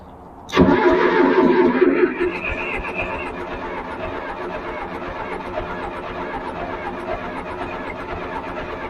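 A John Deere 401C engine cranking on its starter, a loud close churning whir that kicks in abruptly and grinds on steadily without catching, later settling into a lower continuous drone.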